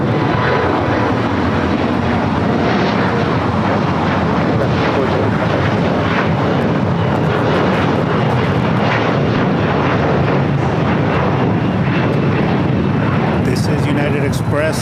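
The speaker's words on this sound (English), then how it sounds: "Another Frontier A320 Neo touching down." A Frontier Airbus A320neo jet landing at LAX, a loud, continuous broadband engine roar that fills the whole stretch with steady rumble, heard close, with people talking over it.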